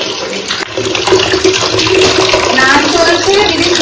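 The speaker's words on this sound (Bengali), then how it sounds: "দিদি স্নান করাচ্ছে" Water splashes and pours steadily while a small child is bathed at home, a continuous close wash of running, sloshing water with voices faintly mixed in.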